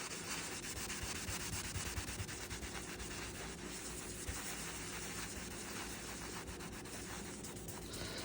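Steady rubbing against a quartz countertop as an ink stain softened with rubbing alcohol is worked off, a close, continuous rough scrubbing texture that runs unbroken throughout with no talking.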